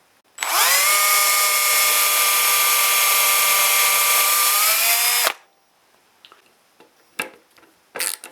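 Power drill driving the last screws into a Firebird-style tenor ukulele build, one continuous loud whine of about five seconds, followed by a few faint knocks and clicks.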